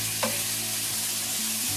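Pasta with salt and pepper heats in a pan for a low-carb courgette pesto dish, giving a steady continuous sizzle with a faint low hum beneath and one small stirring knock.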